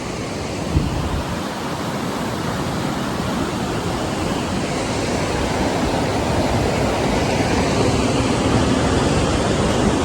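River water rushing past a bridge near a temple, a steady broadband roar of flowing water with some wind buffeting the microphone, continuous and close.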